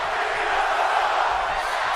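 Steady roar of a large arena crowd in a WWE 2K17 wrestling match, chanting continuously and sustained at high volume for the whole stretch, with no clear individual voices.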